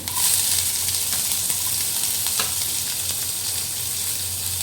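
Onion and mixed vegetables fry in a pan for veg momos, making a loud, steady sizzle and hiss up close with faint stirring scrapes throughout.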